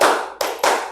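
A teacher's 'tepuk semangat' classroom clap routine: a ringing clap already decaying at the start, then two crisp claps in quick succession, close and clear with no voices.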